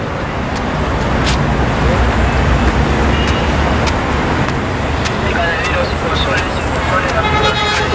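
Dense road traffic at the Javier Prado cloverleaf interchange in Santiago de Surco, Lima, where cars from the Panamericana Sur join the Vía de Evitamiento, heard from a pedestrian bridge as a steady roar with occasional horn toots and a voice talking over it.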